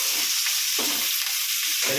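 Curry leaves sautéing in a pan for a home-cooked fish curry, giving a steady close sizzle with brief stirring scrapes and no talking.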